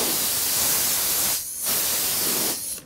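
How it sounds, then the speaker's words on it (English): A loud burst of hissing canned air spray runs for over a second, stops, and returns in a second burst, cleaning a Sony PVM-2541A OLED monitor. "take your canned air again"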